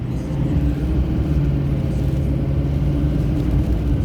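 A car drives on a road during Hurricane Ian in strong wind, giving a steady, loud low engine and road rumble with constant tire drone that continues unbroken and close throughout.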